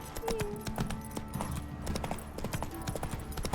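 Hooves of the horse Roach beat in a quick, steady clip-clop in The Witcher 3: Wild Hunt, up close with a faint voice and game ambience underneath.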